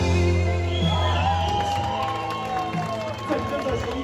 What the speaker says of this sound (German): dann flippt das Publikum einmal kräftig aus